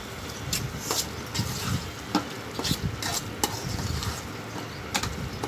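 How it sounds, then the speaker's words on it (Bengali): Lightly fried shrimp are stirred in a pan over a bubbling sizzle, with repeated scraping strokes of the spoon against the metal in an uneven rhythm. "হালকা ভাজা চিংড়ি মাছগুলিকে ভালো করে নেড়ে চেড়ে সব একসাথে মিশিয়ে নেব।"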